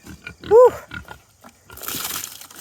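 Pigs grunt and squeal up close, a burst of sharp high squeals in the middle amid snuffling grunts, followed by rustling and crunching noise.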